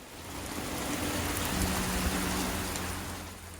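Steady, heavy rain pours down in a dense, continuous hiss with a low rumble underneath. No voices are heard.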